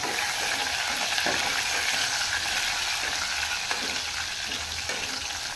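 Curry leaves fry in hot oil as the tempering for a moth bean sambar, a steady dense sizzle with a few soft stirring scrapes, close and continuous throughout.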